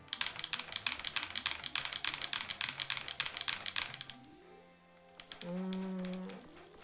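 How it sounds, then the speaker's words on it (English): Loud, rapid clacking of a computer keyboard during a casual gaming session, a steady close burst of keystrokes that stops, leaving a short lull and then a sustained tonal hum. "It's so loud, my fucking keyboard."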